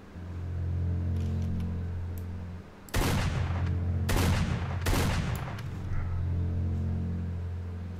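Gunfire in the S.T.A.L.K.E.R. video game aimed at the Master in Dead City, coming as three loud, sharp bursts over a steady low hum of game ambience.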